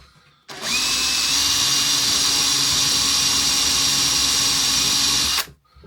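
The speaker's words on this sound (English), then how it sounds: "Now, I'm going to drill a 6mm hole. Not all the way through, just part way in." A power drill bores a 6mm hole part way into wood, a loud steady motor whine running about five seconds from a sharp start to a clean stop, close to the mic with no talking.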